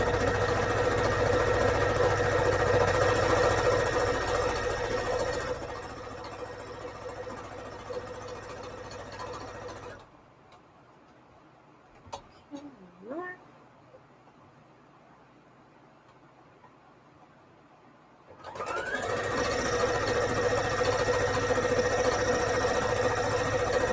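A sewing machine stitches straight lines in beige thread on a soft fabric mini junk journal cover with Peltex interfacing, a loud steady motor hum that stops for several seconds of near-silence before resuming.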